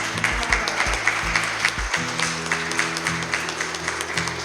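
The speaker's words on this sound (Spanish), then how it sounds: "Dale fuerte aplauso al Señor." A church congregation claps for the Lord, steady rhythmic hand claps mixed with music and a low sustained organ or keyboard tone, moderately loud throughout.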